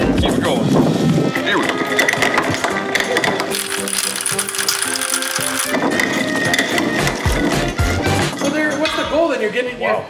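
A fruit grinder chews through fruit to crack the skins and free the juice, a continuous loud ratcheting, gear-driven mechanical grind running throughout, with voices talking over it.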